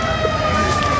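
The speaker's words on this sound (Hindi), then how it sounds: "इफ्तार का टाइम होने वाला है, सायरन की आवाज आ रही" A loud, steady siren sounds across Hyderabad's old city near Charminar during Ramzan to mark iftar time, a continuous wailing tone heard up close.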